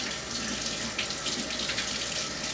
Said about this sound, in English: I'm going to rinse my hands real quick here.